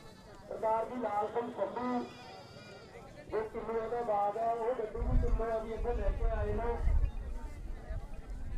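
Several drawn-out bleats from a goat nearby at a goat market, wavering and nasal, with a low rumbling background and a few thuds.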